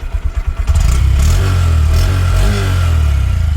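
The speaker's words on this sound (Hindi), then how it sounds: "Let's listen to the exhaust." A Honda Shine SP125 motorcycle, exhaust heard up close as the engine idles with a pulsing thump, then revs up into a loud sustained drone that holds steady before easing slightly, with no talking.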